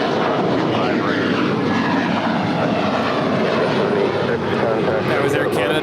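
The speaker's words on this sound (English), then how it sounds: "That was Air Canada 786 departing to Toronto. It's a 13-year-old Airbus A321." Steady, loud jet roar of a 13-year-old Air Canada Airbus A321 departing LAX on runway 25 right bound for Toronto, a continuous broadband rush that holds throughout, with people talking faintly underneath.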